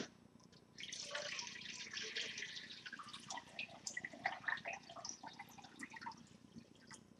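Tap water pours into an ultrasonic cleaner tank, a steady splashing rush that starts suddenly and fluctuates as the container fills, with faint drips toward the end.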